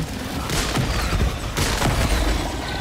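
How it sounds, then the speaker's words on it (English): Turret fire in the video game Helldivers 2, a loud close run of heavy booming blasts that repeat and fill the mix with dense rumble. "Oh turret, stop aiming at me."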